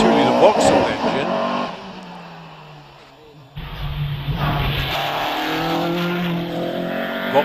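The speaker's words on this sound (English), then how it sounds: "the 1999 Dallara Formula 3 car with a 2-litre Vauxhall engine" A 1999 Dallara Formula 3 race car with a 2-litre Vauxhall engine revs and climbs through gears at a hillclimb meeting, engine note fading then surging loud again, with a commentator talking over it.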